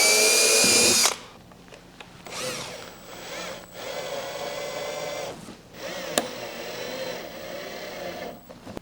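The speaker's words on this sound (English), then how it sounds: "So I've got my 1/8 drill bit." A power drill with a 1/8 drill bit makes a steady whine for several seconds and stops briefly partway through, with a short sharp click near the end, after a loud burst at the start.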